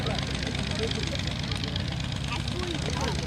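A 1930s airplane makes its takeoff roll at an air show at Rhinebeck Airport, its engine droning steadily at a moderate distance with a low propeller hum.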